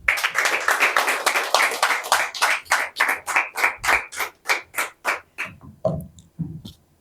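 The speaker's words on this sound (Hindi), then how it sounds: "जोरदार तालियां हो जाए एक बार" Clapping at an open mic poetry event, a quick even run of sharp claps that gradually slows and thins out before stopping.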